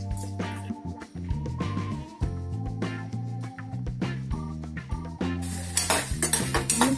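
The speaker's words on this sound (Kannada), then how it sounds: "ಇಂಗು ಒಣಮೆಣಸು ಎಣ್ಣೆ ಹಾಕಿ ಹುರ್ಕೊಳ್ಬೇಕು." Asafoetida and dried red chillies frying in hot oil for a jackfruit curry, a soft sizzle under repeated clinks and scrapes of a metal spoon against the pan, growing brighter and louder near the end.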